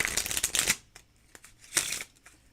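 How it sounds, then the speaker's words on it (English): A deck of playing cards is bridge shuffled in midair, giving rapid riffling bursts of flicking card edges, a longer riffle followed by softer taps and a second short riffle, close and clear. "Bridge shuffling in midair is not the easiest thing in the world to do"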